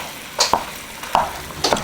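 Ground beef and ground sausage frying in a pan while being stirred together, a soft sizzle under three quick scraping strokes of the utensil, close and fairly quiet.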